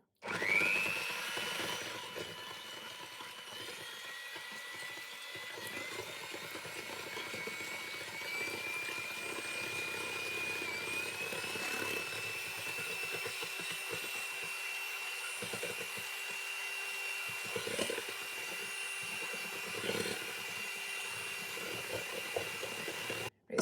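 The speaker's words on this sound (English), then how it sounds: "I'm now going to whisk this until we get it up to the meringue stage before we put the sugar in" An electric mixer whirs continuously, whisking egg whites toward meringue. The steady motor drone keeps a rising whine throughout with occasional bumps of the whisk against the bowl and cuts off sharply at the end.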